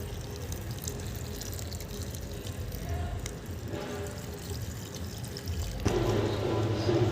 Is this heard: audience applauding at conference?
no